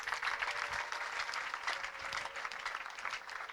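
A congregation at a prayer service claps steadily for several seconds, a dense patter of applause from many hands, moderately distant.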